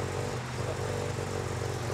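A 1989 BMW car engine runs with a steady, close, throaty drone and a low rumble that holds an even level throughout, with no voices.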